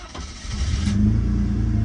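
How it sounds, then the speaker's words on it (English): A 1990 Mercedes 300E engine cranks briefly and catches, settling quickly into a steady, close idle with no talking. "The car just started right up."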